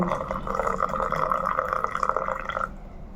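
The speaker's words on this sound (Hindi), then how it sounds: "पानी डालो" Water poured into a cup to make tea runs as a steady, close, gurgling stream for a few seconds, then stops abruptly, with no voices over it.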